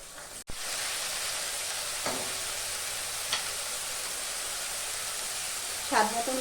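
Spice paste for a chital fish curry fries in a pan with a steady, hissing sizzle throughout, with occasional faint stirring scrapes over the constant noise.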